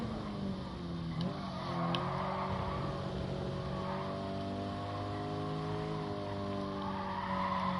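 Race cars in Gran Turismo Sport, a Nations Cup round, roar steadily for about eight seconds with layered engine drones and pitch sweeps as they accelerate and brake, and brief tyre squeals appear amid the pack.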